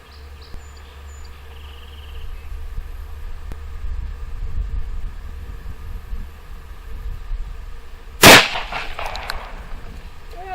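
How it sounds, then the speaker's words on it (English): .44 Magnum handgun firing a jacketed hollow point into water jugs outdoors: a single loud, sharp report late in the clip over quiet background hiss and faint ambient noise. "44 mag with a jacketed hollow point"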